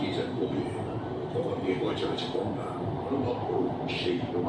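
Kolkata metro train running through the tunnel beneath the Ganges river, heard from inside as a steady, muffled rumble beneath a speaking voice.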